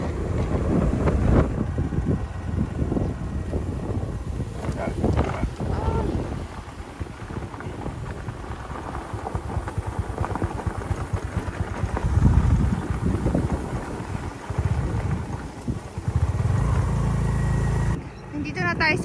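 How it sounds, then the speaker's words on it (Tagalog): Strong wind buffets the microphone outdoors on the way to a rural farm field, as gusty rumbling rises and falls under a person talking throughout. "Sobrang lakas ang hangin."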